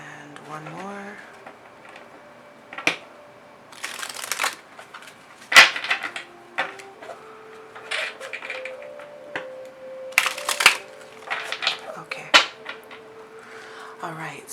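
Tarot cards shuffled by hand, a run of quick papery riffles and soft slaps in short bursts, with a voice speaking between them.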